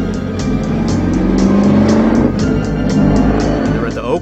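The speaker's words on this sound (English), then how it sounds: "the thing they really wanted was great action shots of Steve Mcqueen doing this driving in this Mustang." A Mustang speeding through the Bullitt chase scene, its engine revving and rising in pitch with tire squeal, loud and close, while someone talks over it.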